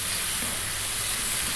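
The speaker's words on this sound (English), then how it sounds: "We're now going to cook this for 5 to 6 minutes on this above medium heat." A tomato and spice curry base for rajma cooks in a pan over above-medium heat, giving a steady, close, even sizzle and hiss with no talking.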